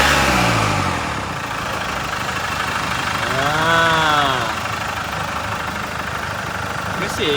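A 2022 Range Rover Sport HSE engine idles at a steady, even hum throughout, with a voice talking over it partway through.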